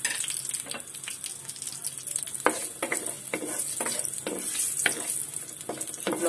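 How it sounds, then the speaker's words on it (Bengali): Two cut dried red chilies frying in two tablespoons of hot oil in a frying pan, a steady close sizzle with repeated sharp scraping stirs of a utensil. "শুকনা মরিচটা আমি একটু ভেজে নিব।"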